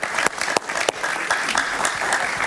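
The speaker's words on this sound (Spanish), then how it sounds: "Martín Berlanga, un aplauso para él." A television studio audience applauds a guest on a talk show, loud and dense clapping that runs continuously with a few sharper, more prominent claps standing out.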